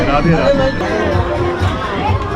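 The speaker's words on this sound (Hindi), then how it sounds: "काफ़ी भीड़ है यहाँ पर।" A crowd of devotees gathers at Radha's Shringar Mahal in Vrindavan during Krishna Janmashtami, a steady murmur of chatter and voices filling the space close by.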